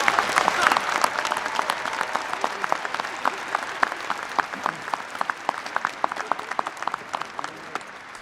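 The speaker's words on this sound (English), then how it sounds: "How about another round of applause for all of our doctoral degree candidates?" Sustained applause fills a hall at a spring commencement ceremony for doctoral degree candidates: a dense, steady wash of many hands clapping, with some sharper nearby claps standing out and slowly easing off toward the end.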